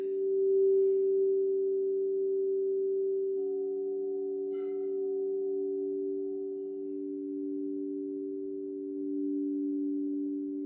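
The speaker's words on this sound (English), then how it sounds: "What does it feel like when we've got two tones playing together?" Two steady electronic tones sound together for about ten seconds, loud and sustained with a gentle swirling beat between them. A faint brief chirp comes in near the middle, and no voices are heard.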